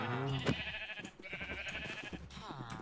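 Sheep bleating in Minecraft Hardcore 1.18 at a villager breeding farm, several wavering bleats close by in quick succession over a constant low hum.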